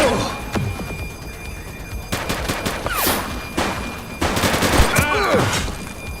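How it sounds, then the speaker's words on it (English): Scattered gunshots in the police action game The Precinct, loud bursts mixed with sweeping electronic tones and game effects, and a voice speaks briefly between the shots. "Shots fired!"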